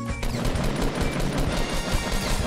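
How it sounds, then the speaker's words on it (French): Gunfire in a Fortnite match rattles in loud, rapid bursts of shots over dense game noise, continuous for a couple of seconds with no talking. "Oh, ça tire"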